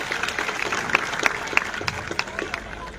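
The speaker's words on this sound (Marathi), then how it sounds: "टाळ्यांचा हात होऊन जाऊ दे." Steady applause from a gathered crowd at the inauguration of a Buddhist vihara in Panchsheel Nagar, Bhusawal, with scattered individual claps cutting through a dense, even wash of clapping.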